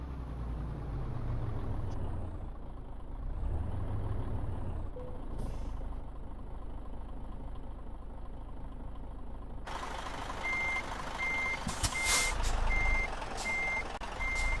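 A truck reverses in the Euro Truck Simulator 2 game, with a steady low engine rumble and an air hiss that give way to a run of evenly spaced, high reversing beeps, clear and fairly loud, and no talking.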